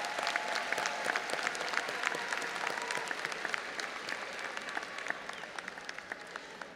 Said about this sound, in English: Let's applaud our graduates.